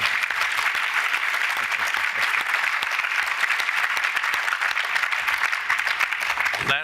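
An audience applauds for the Attorney General at a public event, the dense clapping steady and continuous for about seven seconds, loud and close, then cutting off at the end.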